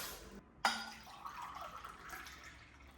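Water poured from a cup into a new pressure cooker holding rice, a brief close splash followed by a soft, fading trickle and drips in a quiet kitchen.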